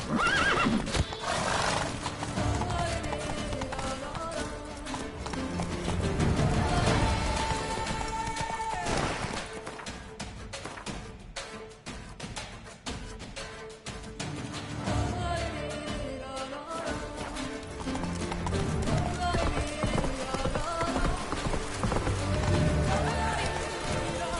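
Roach, a horse in The Witcher 3 Blood and Wine, gallops with steady close clip-clops and lets out several loud neighs and whinnies over busy game music and occasional impacts.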